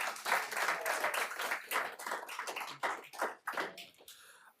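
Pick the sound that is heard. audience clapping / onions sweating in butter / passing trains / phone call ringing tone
audience clapping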